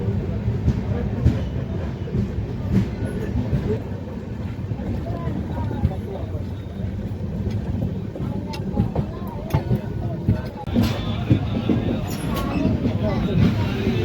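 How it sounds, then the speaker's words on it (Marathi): An onboard recording of a passenger train on the Nanded to Nizamabad route, likely the Devagiri Express, pulling out of Mudkhed station, with continuous loud rumbling and scattered rail clacks. "दोन मिनिटाच्या स्टॉप नंतर मित्रांनो मुदखेडवरून आपली ट्रेन निघालेली आहे"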